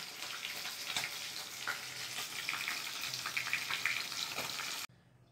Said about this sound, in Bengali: এই যে কড়াইতে জিরা, তেজপাতা আর শুকনো লঙ্কাটা দিয়ে দিয়েছি।